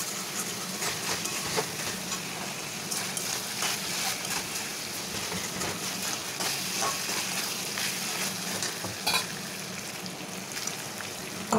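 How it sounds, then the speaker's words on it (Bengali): Meat sautéing with onion, chili and spices in a pan sizzles and crackles loudly and continuously up close, broken by occasional scraping stirs. "এদিকে মাংসটা কষাচ্ছি আমি ভালো করে, একটু পেঁয়াজ লঙ্কা সব মশলা দিয়ে"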